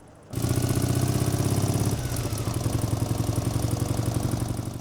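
A Soviet IZh motorcycle engine starts and settles into a loud, close, steady idle with a fast regular chugging pulse, running alone for several seconds.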